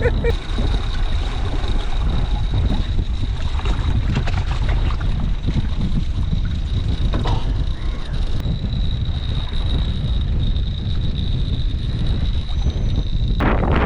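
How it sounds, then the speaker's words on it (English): Strong wind blows at Steep Point, a rugged Western Australian coastal fishing spot, as a loud, continuous roar and buffeting that lasts the entire length with no pauses. "good to see the wind's set back in again"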